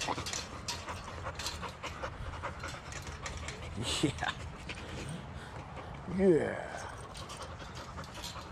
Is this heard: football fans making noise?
no